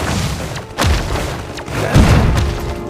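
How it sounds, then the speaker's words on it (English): A grenade blast in the Iron Marines strategy game, with two heavy low booms about a second apart over a busy battle backdrop of faint crackles and distant thuds. "Grenade!"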